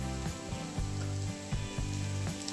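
Ground soybean and masala fry in a pan, a faint, steady sizzle broken by soft repeated scraping strokes as the mixture is stirred.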